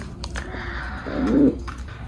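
A caged pigeon gives one brief, soft, low coo in the morning, heard close by against a quiet background.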